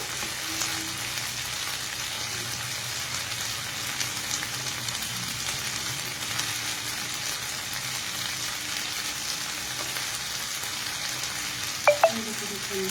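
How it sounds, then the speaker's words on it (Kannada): Paneer frying in a pan, a steady close sizzle that holds evenly throughout with faint background tones and a couple of sharp clinks near the end. "ಪನ್ನೀರ್ ಎರಡೂ ಕಡೆ ಚೆನ್ನಾಗಿ ಫ್ರೈ ಆಗಿದೆ."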